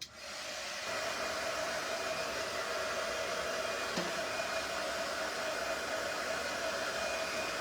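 A hair dryer blows steadily on a wet craft project, a constant loud whooshing drone with a faint whine that starts abruptly and holds unbroken to the end, with no talking.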